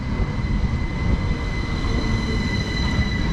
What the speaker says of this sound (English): This is the 1358 Great Western Railway service from Didcot Parkway to London Paddington